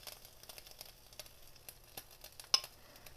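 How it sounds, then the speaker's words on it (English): A mac and cheese grilled cheese sandwich fries in a pan with a soft, continuous sizzle and faint crackles, plus one sharper pop near the end. "Hear all the sizzling going on?"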